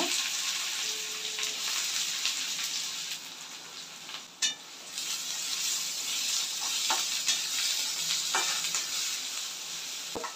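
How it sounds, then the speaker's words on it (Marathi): Finely chopped onion frying in hot oil in a pan for a soybean sabzi, a steady loud sizzle with crackling pops and a few brief clinks of stirring, with no voices. "ऑइल गरम झालं आहे, यामध्ये आपण"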